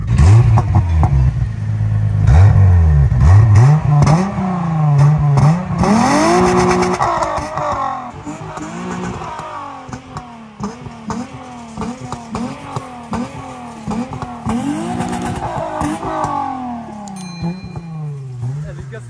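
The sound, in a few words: Volkswagen Golf 3 VR6 engine revving hard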